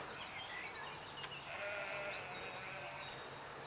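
Sheep bleat repeatedly at a distance over a steady outdoor background in the countryside near Denbigh during lambing season, with calls overlapping in a loose, irregular rhythm.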